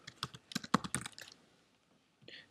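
Quick bursts of key taps on a Mac computer keyboard, close and fairly quiet, an uneven run of clicks that stops for about a second before a short final flurry.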